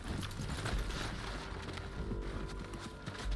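Horse hooves clip-clop in the video game Red Dead Redemption 2, a dense rumbling run of hoofbeats over a low in-game background.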